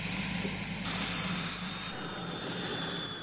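A jet aircraft roars steadily at close range with a sustained high whine on top, heard alone for a few seconds.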